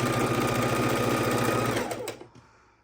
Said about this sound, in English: we're going to pop that back under the machine, put my finger in there to make sure it's straight, and sew it across